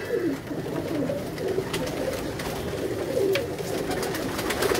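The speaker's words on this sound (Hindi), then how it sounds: "ये कांटों वाले कबूतर हैं" Kasuri bloodline pigeons on a rooftop coo in repeated soft rolling phrases, several birds close by over a light outdoor background with faint clicks.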